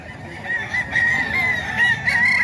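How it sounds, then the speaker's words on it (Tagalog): A rooster crows in a long, drawn-out call, fairly close, over a faint background murmur. "Manok ni Kuya Joey."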